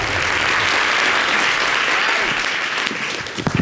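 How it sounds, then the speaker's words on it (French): An audience at a televised entertainment show applauds loudly and steadily with dense clapping that thins slightly toward the end. A few voices mix into the crowd noise. "Good job, merci de l'applaudir."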